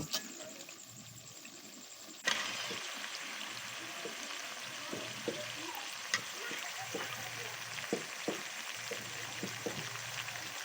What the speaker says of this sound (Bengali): ভালো করে মশলাটা ভেজে নিতে হবে মশলাটা ভাজা হয়ে গেলে আমি জালিতে রাখা মাংসগুলো মশলার মধ্যে ঢেলে দিব